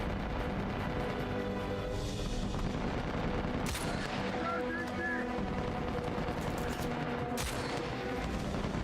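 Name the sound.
sniper rifle gunfire in video game Uncharted 4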